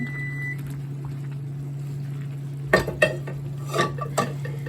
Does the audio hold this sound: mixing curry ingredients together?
yes